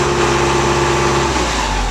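A Kubota M7040 HDC tractor engine idles close by with a steady, even diesel throb, heard alone for a brief moment.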